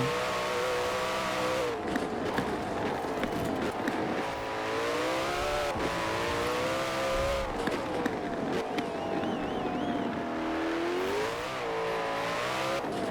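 A Koenigsegg Jesko in Forza Horizon 4 revs and accelerates hard, its engine note climbing and dropping through gear changes, loud, close and continuous, with occasional tire squeal.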